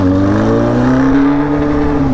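A Honda Fan 600R-style motorcycle with only a straight pipe for exhaust revs and pulls away, producing a loud, close, steady engine drone whose pitch climbs slightly as it accelerates, with no talk.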